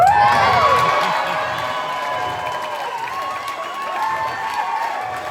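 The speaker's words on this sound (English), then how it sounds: "So let's give a round of applause to the bartenders." Wedding guests at a reception cheering and whooping with applause underneath, high shouts and voices dominating at first, then a lively crowd roar that carries on evenly.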